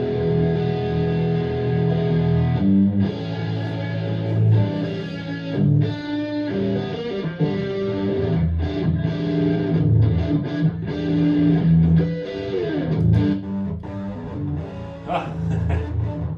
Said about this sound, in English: now I just stuck this old Marshall amp head on it, and look how it changes the sound.